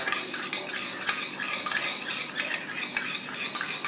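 A spoon clinks and scrapes quickly against a small dish while beetroot juice and aloe vera gel are mixed into a homemade lip balm, busy and close with no talking.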